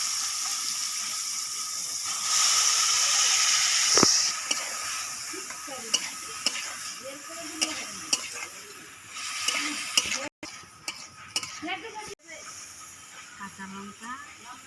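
Chopped banana stem stirred in a pan with chili, ginger and cumin paste, hissing and sizzling loudly at first, then softer scraping and clinks of the stirring spoon; someone speaks over it.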